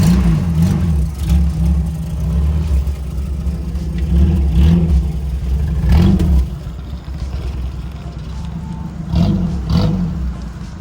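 A Toyota mini truck drives along with its engine humming close by, rising and falling in repeated revving surges, with a light mechanical clatter underneath and no talking.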